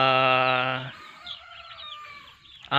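A rooster crows loudly at a small poultry farm, followed by soft clucking and scattered chicken sounds, then another crow begins at the end.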